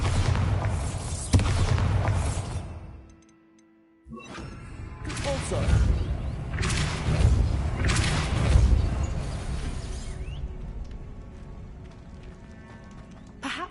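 Bombarda explosion spell in the video game Hogwarts Legacy: a sudden loud blast breaks a brief near-silence, followed by rumbling booms and debris clatter, with scattered talk and game noise around it.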